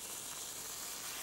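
Seasoned fish laid skin-side down in a hot frying pan hisses with a steady, even sizzle that fills the short moment with bright crackling noise and no voices.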